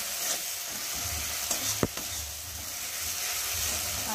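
Mustard spice paste sautéing in a pan for a bitter gourd dish, a steady soft sizzle with a few light stirring scrapes, close and alone with no talk.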